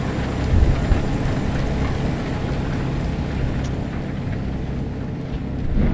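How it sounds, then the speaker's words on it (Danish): Heavy rain drums on a car while driving near Lillebælt, Denmark, in a thunderstorm, a dense steady roar with a low rumble of thunder near the start and no talking. "Det lyner og tordner her."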